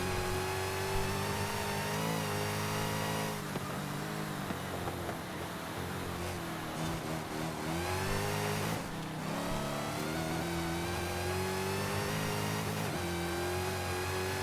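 A 2015 Dodge Charger Hellcat SRT at full throttle, its supercharged engine roaring loud and close with rising revs, two brief dips at gear shifts before climbing again, another car running just ahead.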